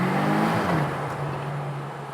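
A Volkswagen Arteon R GT with a 320 hp engine and all-wheel drive revs in a tunnel, a steady loud engine drone with a rising then settling pitch and echoing rumble.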